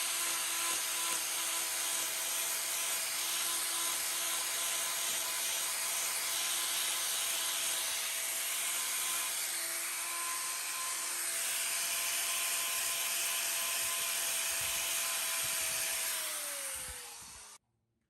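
A power tool whines steadily while trimming a cow's hoof, a dense grinding drone that holds for about seventeen seconds before spinning down and stopping; no talking.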